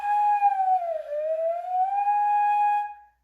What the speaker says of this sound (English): So if you take your finger in and out, it actually does a bit of a siren up and down.